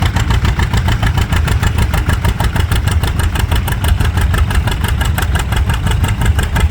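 Tractor engine lugging hard under load while pulling a sled at a tractor pull, a loud, steady, throbbing roar with rapid rhythmic pulsing held throughout.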